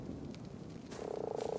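A red-tinted toad in the video game ARK croaks in a steady rapid pulse that grows louder toward the end, set over low game ambience with no talking.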